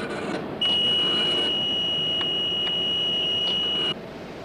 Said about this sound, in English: How about this alarm?